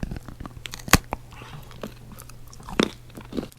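Someone bites into a quinoa crunch chocolate bar with a sharp snap, then a second crisp bite follows, with close, crackly chewing in between.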